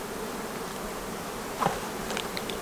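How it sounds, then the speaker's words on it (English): A steady insect buzz from many bees fills the whole stretch, continuous and moderately loud, with a brief louder swell near the middle. "Look at that big swarm of bees right there,"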